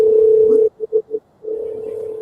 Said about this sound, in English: who phone ringing?